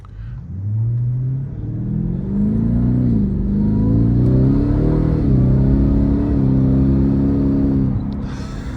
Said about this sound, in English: it's a very interesting sound coming from this exhaust.